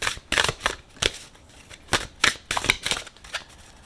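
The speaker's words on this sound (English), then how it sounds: "let's go ahead and shuffle and see exactly what information these cards can give us" Tarot cards being shuffled by hand up close, heard as a quick series of dry, papery flicking bursts in irregular clusters with short pauses between them, and no talking.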